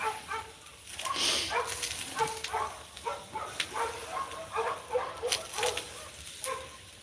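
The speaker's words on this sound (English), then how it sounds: "My neighbor's damn dogs just decided to take up barking." Several dogs barking off and on at a distance, short yelps and barks scattered throughout over faint outdoor background noise.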